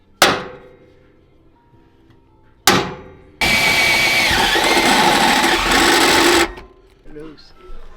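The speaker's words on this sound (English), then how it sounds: "And then drill out the holes real quick." A loud power drill whirs for about three seconds after two sharp knocks, drilling holes for a battery tray, then cuts out into quieter handling noise.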